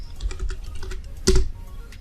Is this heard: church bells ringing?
no